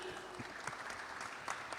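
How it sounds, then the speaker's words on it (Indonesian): Faint applause from an audience at a financial festival panel, a soft, continuous patter of many hands with a voice heard briefly beneath it. "Kita kasih tepuk tangan sekali lagi"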